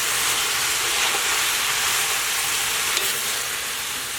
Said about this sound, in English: So you're just going to give that a stir and let everything start to cook down a little bit.